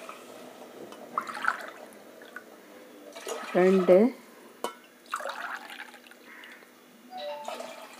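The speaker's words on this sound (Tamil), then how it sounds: "இப்போ நான் 3 டம்ளர் தண்ணி இதில் விட" Tumblers of water splash into a cooking pot for coriander pulao in a few separate short pours, close and clear, while a voice counts in between.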